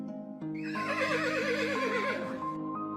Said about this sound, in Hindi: घोड़ी हिनहिनाई।